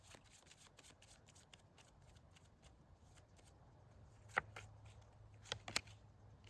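Soft, steady shuffling of tarot cards close by, with a few sharper riffling snaps near the end and no talking.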